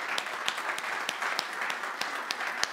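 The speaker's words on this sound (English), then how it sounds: "can we give a round of applause to our mothers?" Church congregation applauding mothers, a steady wash of clapping from a room of people at moderate loudness with a few sharper nearby claps standing out.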